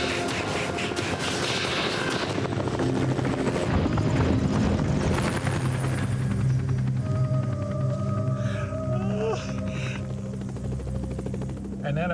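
Helicopter rotor beating over a jungle area near Cozumel, Mexico, heard as a steady, loud mechanical drone with rhythmic chopping throughout, mixed with broad background noise and some tonal sweeps.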